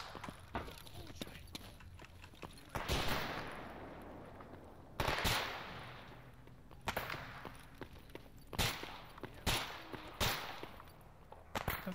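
Gunfire in the STALKER EFP game: a handful of separate heavy shots, each a sharp loud crack with a lingering tail, spaced a couple of seconds apart over a quiet ambient background, with a voice talking between them.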